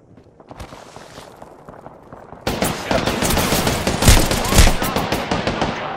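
Rapid automatic gunfire erupts in an Apex Legends firefight, starting abruptly a few seconds in and continuing as loud, dense bursts of shots over a background of game noise.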